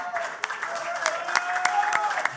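An audience at a live radio show in Sherbrooke, during Radio Week, gives scattered applause. The claps come as sparse bursts under a person talking.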